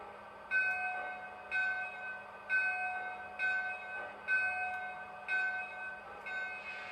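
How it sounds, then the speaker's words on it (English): A small Lionel Legacy Mohawk model steam locomotive bell rings steadily, about one clang per second, clear and close over a low mechanical hum. "Now here's the bell."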